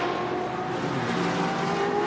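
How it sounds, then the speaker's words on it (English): An old-school Touring Car Masters race car at Queensland Raceway roars steadily at a distance, a continuous loud engine drone with no voices. "loud race cars, big flames, especially old school sounds like this."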